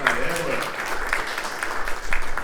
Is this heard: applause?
yes